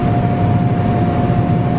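Cement powder, about 50,000 pounds of it, blows through a tube into a bulk truck, giving a steady, loud rushing roar with a constant whine above it and no break.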